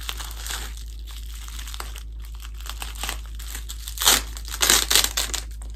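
Plastic packaging crinkling and rustling as a figure base is unboxed, close up, with irregular crackles and a few louder crunching bursts near the end over a low steady hum, no speech.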